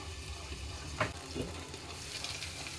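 Onions frying in a pan for chicken curry, a soft steady sizzle with a couple of brief clinks or scrapes, fairly quiet and close.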